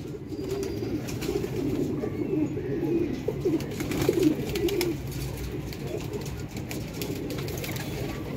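Domestic pigeons kept in a loft or breeding setup coo softly and repeatedly nearby, their low burbling calls layered over a steady background murmur.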